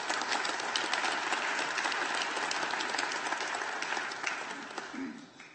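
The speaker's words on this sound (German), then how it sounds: "Ich glaube, das ist ein Applaus wert." Applause breaks out at the Swissbau 2012 opening, a sustained round of clapping from a hall audience that holds steady and then tapers off toward the end, heard from some distance.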